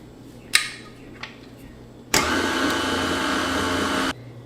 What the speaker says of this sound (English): Now we're just gonna give that a mix.